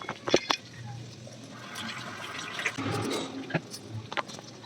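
Raw chicken pieces being washed in a bowl of water, with sloshing, splashing and trickling sounds close by at moderate volume, under light background voices.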